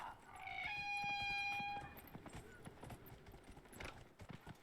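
Horse hooves in the video game Dragon Age: Inquisition, faint rapid clip-clop steps under a brief tonal horn-like call at the start, quiet and close, continuing unevenly to the end.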